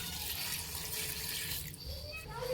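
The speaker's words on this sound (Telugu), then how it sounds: "ఇవి ఉడకడం కోసం కేవలం 1 గ్లాస్ వాటర్ మాత్రమే ఇందులో పోసుకోవాలి" Water pours steadily from a glass into a cooking pot on a stove while crayfish curry is being made, a continuous close splashing rush that lasts throughout with no voices.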